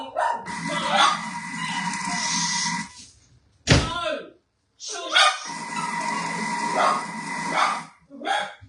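A dog barks in repeated bursts at home, loud and close, with a brief pause midway before the barking resumes.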